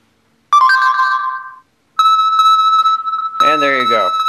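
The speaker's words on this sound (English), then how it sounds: "It'll ping and do that until you find it and stop to help you find your phone." Motorola Droid Turbo smartphone sounding its find-my-phone ringtone, two loud sustained electronic tones, the second continuing while a voice speaks over it.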